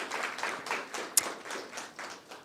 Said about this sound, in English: So please stand up and get a round of applause.